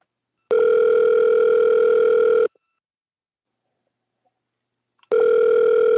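An unanswered telephone call ringing: one steady two-second electronic ring, a silent pause, then the next ring starting, clear and close.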